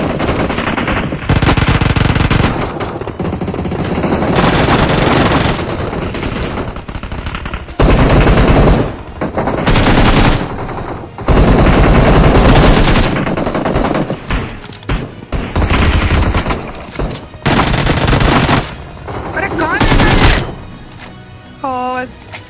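Loud gunfire bursts from a fight in the video game BGMI, with repeated automatic volleys broken by short pauses, and someone talking over the shooting.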